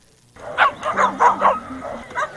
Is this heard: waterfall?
no